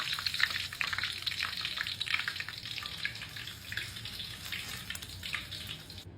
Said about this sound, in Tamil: மீனை 2 பக்கமும் திருப்பி போட்டு நல்லா பொரிச்சுக்கிறோம்